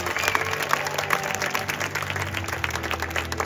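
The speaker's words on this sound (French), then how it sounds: "Applaudissements pour Roberto!" Crowd applause from a street-festival audience at a street-artists' festival in Vevey, Switzerland, a dense steady clapping wash that holds at even loudness throughout with no break.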